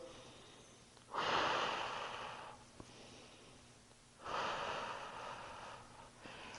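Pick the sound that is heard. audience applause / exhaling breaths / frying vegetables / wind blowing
exhaling breaths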